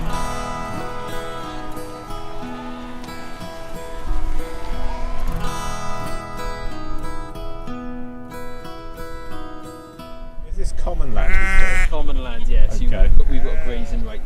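A large flock of sheep bleats continuously in South Wales, many overlapping calls near and far, with people talking over the noise toward the end.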